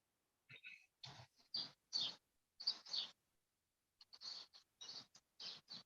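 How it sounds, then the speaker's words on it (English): Small birds chirping in short, bright bursts of tweets with brief pauses between them, fairly close and clear against a quiet background, with no talk. "I hear the birds."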